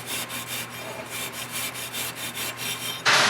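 Rhythmic back-and-forth scrubbing on the metal face of a Polaris Pro XP outer clutch sheave to remove glaze, about nine quick, even rasping strokes up close, ending in a sharper, louder scrape.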